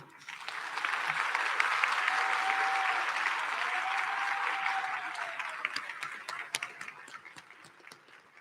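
A crowd at a 2021 collegiate high school commencement applauds graduating students: clapping swells quickly, holds steady for several seconds, then thins into scattered claps, while a faint tone runs briefly beneath.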